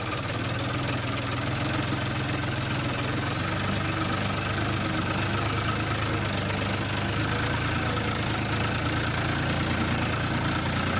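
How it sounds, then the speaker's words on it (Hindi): A small toy tractor engine runs continuously, giving a steady, loud, knocking idle-like drone with constant vibration and no pauses, alone in a farm play setting with no talking. "तब तक हमारा वो वाला ट्रैक्टर गेहूं लेके आ रहा है"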